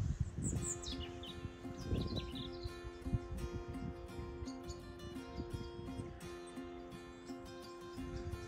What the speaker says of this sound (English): Noisy bird up there.